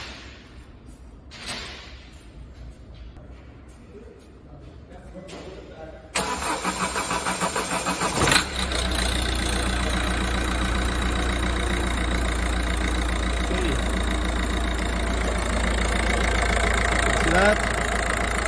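Peugeot common rail diesel car engine cranks with a burst of rapid starter chatter, catches and settles into a loud, steady, gravelly idle that runs on continuously after a quiet lead-in.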